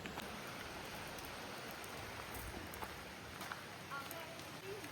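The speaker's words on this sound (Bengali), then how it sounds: "এখানে বৃষ্টি হচ্ছে বাইরে" Rain falling outside a tiny hill toy-train station at Tung, a faint steady patter with occasional drips under a quiet background.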